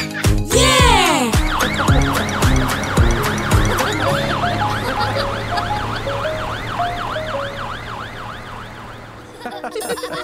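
Cartoon fire truck siren in a French children's nursery rhyme, loud and continuous with rapid wailing sweeps over musical backing, joined at the start by a bouncy sound effect and horn-like blasts.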